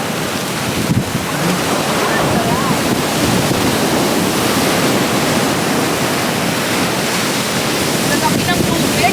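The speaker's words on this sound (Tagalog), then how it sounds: "Nalaki ng tubig, ng alon" Ocean waves surge and crash around rock pools at Magpupungko, a continuous loud wash of surf mixed with gusty wind buffeting the microphone.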